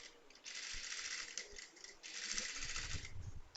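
A sewing machine stitches chudidar blouse fabric in two short bursts of fast, buzzing mechanical rattling, separated by a brief pause, with soft handling noises in between.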